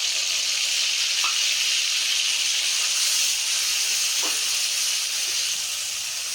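Ground spice paste of ginger, cumin, coriander and dried red chilli hitting a hot pan with tomato, a steady bright sizzling hiss, close and even, with a couple of faint clinks.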